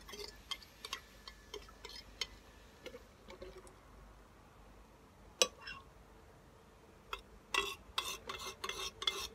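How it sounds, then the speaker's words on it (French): A spoon stirs and mixes a homemade liposomal vitamin C preparation in a container, with sparse taps and clinks early on and a quicker burst of clicking scrapes near the end. The sounds are faint and there is no talk. "une fois bien mélangé, on va mélanger cela à la préparation."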